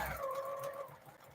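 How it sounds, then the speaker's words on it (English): A domestic sewing machine doing free motion quilting of feathers whirs at a high steady pitch for under a second, then fades into quiet room noise. "when you're doing this from a domestic sewing machine"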